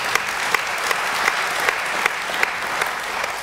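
A church congregation claps during a sermon, a full room of hands applauding in a steady, fairly loud wash with a few sharper claps standing out.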